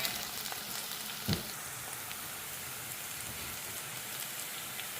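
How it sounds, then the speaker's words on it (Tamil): Finely chopped tomatoes fry with greens in a pan for a meat curry, a faint, even, rain-like hiss with one soft thump early on, and no talking. "தக்காளி பொடியாக வெட்டி அதோடு கொட்டுறேன்"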